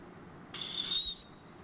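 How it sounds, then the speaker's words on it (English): One short, shrill blast from the small whistle built into a Wazoo survival bracelet, lasting about half a second, close and clear against a quiet room. "It has a whistle."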